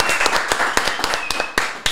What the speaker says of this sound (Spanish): Yo quiero que ustedes me reciban con un fuerte aplauso